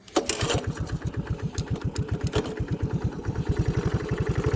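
A 1981 Honda 185s motorcycle engine idling shortly after a cold start, a rapid, uneven putt-putt firing rhythm close up and fairly loud, with a sharp mechanical clatter near the start and no talk.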